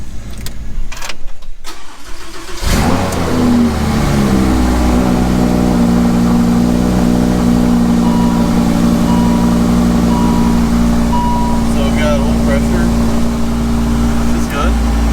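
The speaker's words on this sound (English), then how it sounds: "we're gonna start the car up, let it out for a little bit" A Lamborghini Huracan engine fires up with a sharp crank and bark, then settles into a loud, steady idle with a deep rumble and occasional light revs, while people talk quietly in the background.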